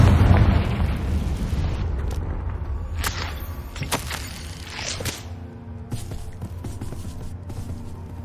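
A Confringo fire spell blast in the Hogwarts Legacy video game opens with a heavy boom, followed by sharp whip-like cracks and bursts that settle into a low rumbling tail.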